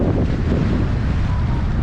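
Strong wind buffets the microphone on a lakeshore during walleye shore jigging, a loud continuous roaring rumble with no pauses.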